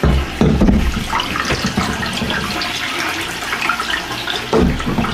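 Running tap water rinses makeup brushes under a faucet: a close, steady splashing stream with louder bursts at the start and end as the brushes pass through the flow.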